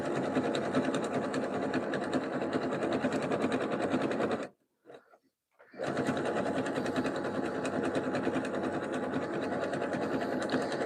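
A sewing machine runs fast on a wide zigzag stitch while sewing a jelly roll rug, a loud continuous mechanical chatter that stops briefly for about a second before resuming at full speed.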